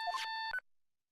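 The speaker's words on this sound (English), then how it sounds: "Oh my god, phone ring." A phone ringtone chirps in the video game Phoenix Wright: Justice for All, a short electronic melody of a few bright beeping notes that cuts off abruptly after half a second.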